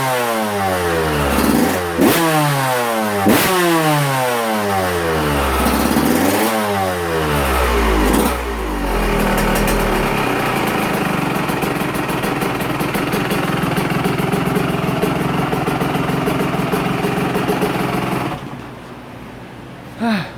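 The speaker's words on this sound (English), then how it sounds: "I'm always impressed with how clean this bike runs, even with 24/1 on the mixture." A two-stroke motorcycle running a 24:1 fuel-oil premix revs hard in several sharp rising and falling bursts, then settles into a steady, buzzing idle, loud and close with no talk.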